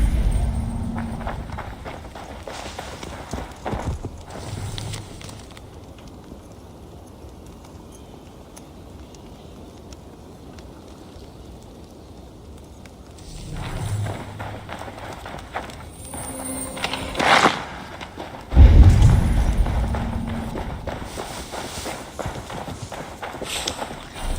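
Horse hooves clip-clop in Assassin's Creed Valhalla, a rhythmic trot that fades quieter in the middle stretch, then returns louder with heavier thuds and clatter toward the end.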